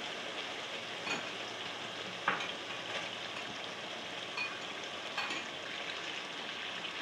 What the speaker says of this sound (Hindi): अभी इसमें चिकन डालती हूँ।